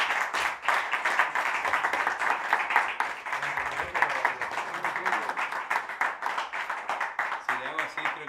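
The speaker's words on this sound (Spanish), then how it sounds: "Un aplauso para el sonido del lugar," An audience at a live trio concert claps steadily for several seconds, a dense close wash of applause, while someone speaks over it near the end.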